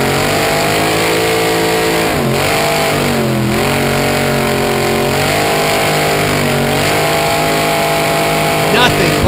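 A monster truck's engine roars steadily through a donut at a car-crushing monster truck nationals event in Corbin, Kentucky, loud and close with rising and falling revs that swirl continuously, under an announcer's voice and crowd noise.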